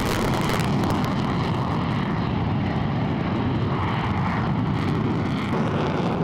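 An F-16 Fighting Falcon fighter jet roars continuously during an air show demonstration, a loud, sustained engine rumble with a broad rushing roar throughout and no talking.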